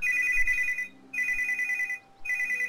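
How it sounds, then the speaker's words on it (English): Telephone ringing in repeated electronic bursts, about a second each with short gaps between, loud and close over faint game background sound. "it seems like my phone's always ringing whenever I start to make a video"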